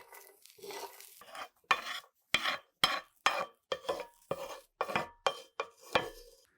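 Whole spices dry roasted in a pan for a pumpkin seed recipe, stirred with regular scraping and clinking strokes against the metal, close and distinct, about a dozen rhythmic passes with no talk.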